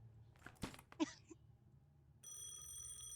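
A telephone rings in the Penelope Pendrick point-and-click game. A couple of soft knocks and clicks come first, then a bright, sustained electronic ring starts partway through and holds steady to the end.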